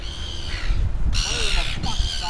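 Birds near a bream fishing spot give harsh, crow-like caws and squawks in short bursts, fairly close, over steady outdoor noise. A voice is faintly present.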